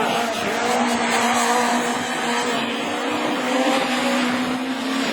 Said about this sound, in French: Fabien Chanoine qui va se trouver derrière la Saxo Kit-Car de Martin